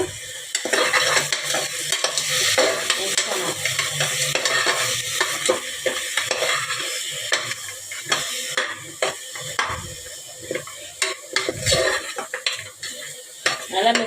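Goat leg soup ingredients with masala and salt being stirred and fried in a pot: loud, continuous scraping and clanking of a metal utensil against the pot over a bubbling sizzle.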